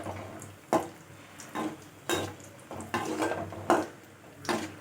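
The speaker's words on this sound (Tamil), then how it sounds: "முந்திரி வறுப்படும் போதே ஒரு 4 திராட்சையும் போட்டுருங்க" Cashews and dried raisins roasting in a pan for pineapple kesari, with repeated scraping and stirring clinks of a spoon against the pan, several distinct knocks over a soft background sizzle, near and moderately loud, no talk.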